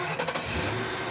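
A car engine starts and settles into an idle, a short close burst of cranking followed by a steady mid-pitched rumble, loud with no speech.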